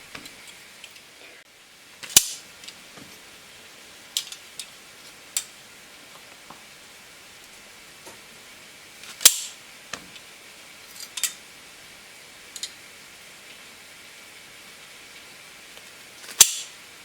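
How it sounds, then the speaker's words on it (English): A knife slices through 500 grams of fresh washed mushrooms on a cutting board, giving sparse, sharp, crisp cutting clicks at irregular intervals with quiet pauses between them. "I'm gonna wash 500 grams of fresh mushrooms. And I'm gonna slice them."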